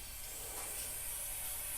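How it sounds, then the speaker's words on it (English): Carburetor cleaner sprays from an aerosol can onto the carburetor of a Craftsman 5/24 track snow thrower, a steady close hiss that lasts the whole moment with no talking. "what I like to do is just take a little bit of carb spray"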